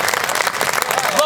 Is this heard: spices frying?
no